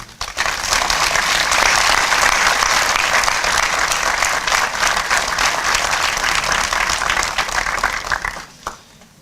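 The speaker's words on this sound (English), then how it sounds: "Please join me in clapping for these wonderful men." Sustained, dense applause from a black-tie awards gala audience honoring men of color, loud and steady for about eight seconds before tapering off.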